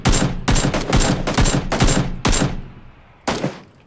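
AKM rifle fire in a PUBG match: several loud, close bursts of automatic gunfire in quick succession, a short pause, then one more burst near the end.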